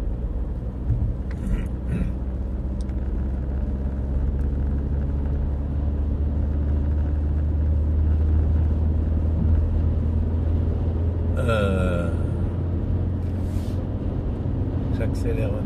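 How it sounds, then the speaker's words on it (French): Car engine rumbling steadily as the driver speeds up to overtake, a low continuous drone that swells slightly midway, with someone talking over it throughout. "j'accélère un peu pour doubler"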